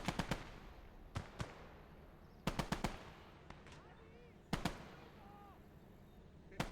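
Sniper rifle shots ring out in the video game Conquest of Normandy: sharp, loud cracks arriving in quick clusters of two to four, separated by pauses, with faint voices in the background.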